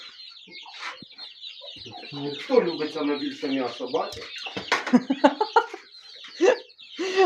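Chickens cluck and squawk close by in a busy flock, with a person speaking over the birds.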